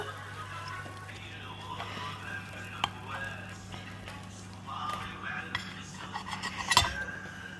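Baked stuffed aubergines are served onto a plate, with soft clinks and taps of cutlery against dishes over a steady low hum in a kitchen.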